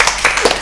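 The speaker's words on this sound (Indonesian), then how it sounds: "Ya, kita tepuk tangan lagi." Audience applause at a campus talk show, a brief burst of many hands clapping together, close and fairly loud, with no speech over it.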